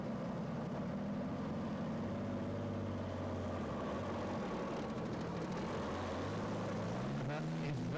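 A pulling tractor powered by a single Allison engine with two turbos roars steadily at a European tractor pulling event, its pitch rising and falling over eight seconds as a commentator talks above it.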